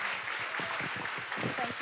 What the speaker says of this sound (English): Louder, big round of applause.